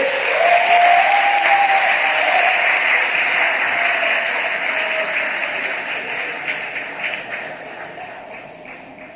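Sustained applause from an audience for a competition jury at a contest final, dense and steady, slowly tapering off over several seconds with a faint murmur underneath.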